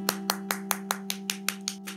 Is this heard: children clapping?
yes